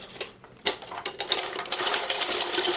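A new Singer knitting machine runs with a fast, steady clatter of mechanical ticks and whirs, close and fairly loud. It pauses briefly near the start, then resumes and continues without a break.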